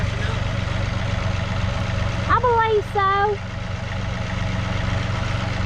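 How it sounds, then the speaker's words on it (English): Farm tractor engine running steadily while manoeuvring in tight spots, a low, continuous idling rumble under a brief spoken phrase. "He gets that tractor in and out of some tight spots."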